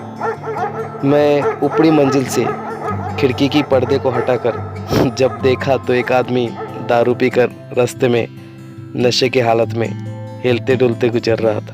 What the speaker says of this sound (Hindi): अचानक मुझे आवारा कुत्तों की भौंकने की आवाज़ सुनाई दी।